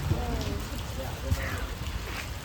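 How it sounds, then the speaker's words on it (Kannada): Rain falls outdoors near an exhibition ground, a continuous hiss of drops with occasional heavier patters, while people talk nearby over the wet backdrop. "ಮಳೆ ನೋಡಿ ಗಾಯ್ಸ್."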